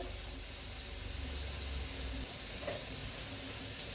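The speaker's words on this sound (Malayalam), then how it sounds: "ഇനി നമുക്ക് വെളിച്ചെണ്ണ ഒഴിച്ചു കൊടുക്കുക" Coconut oil poured into a hot pan while cooking clams, giving a steady close hiss and faint sizzle that runs evenly throughout with no talk.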